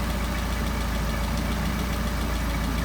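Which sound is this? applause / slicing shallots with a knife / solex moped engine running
solex moped engine running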